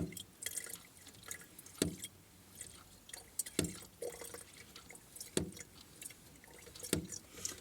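Water for boiling runs into a container at an apple dessert cooking session, a soft continuous trickle and splash broken by sharp periodic drips and clinks, close and fairly quiet, with no talking.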